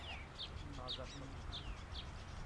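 Weaver birds give short, high chirps near their nests in a tree, about four to five calls spaced across a couple of seconds over a steady low rumble of background noise.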